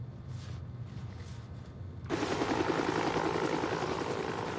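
A Lifestar medical helicopter: after a quiet opening, loud, steady rotor and engine roar starts abruptly and holds as a close, continuous wash.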